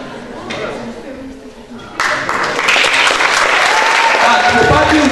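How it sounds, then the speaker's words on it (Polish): Applause for students presenting a robot at a youth camp: dense clapping swells abruptly and stays loud and steady to the end, with voices mixed in beneath. "Jeszcze raz brawa dla nich!"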